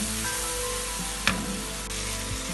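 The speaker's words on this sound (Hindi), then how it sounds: "इसे अच्छी तरह हम भून लेंगे, मसाले को अच्छी तरह पकाएंगे।" Red chili powder, turmeric and salt masala fries in a hot pan for a shalgam palak dish, giving a steady close sizzle with a brief stir scrape midway.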